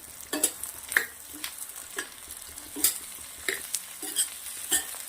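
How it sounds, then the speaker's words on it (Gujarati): Okra stirred into a pan of sautéed onions and chillies frying in oil, with spoon scrapes at an uneven pace over a quiet sizzle, close and without speech. "હવે આપણે અંદર નાખવાના છે ભીંડા। મિક્સ કરી દઈશું।"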